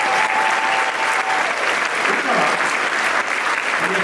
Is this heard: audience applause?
yes